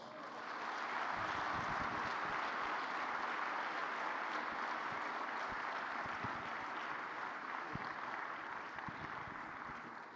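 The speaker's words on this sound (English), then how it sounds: "Don't you think we should give them a louder clap?" An audience at an education gathering on foundational learning in Africa applauds, a steady wash of many hands clapping that swells quickly and holds for about ten seconds before easing slightly at the end.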